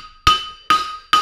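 A hammer forges the frog plate of a heart bar horseshoe on an anvil. Three loud, close strikes land at a steady, unhurried pace, and each leaves a bright metallic ring.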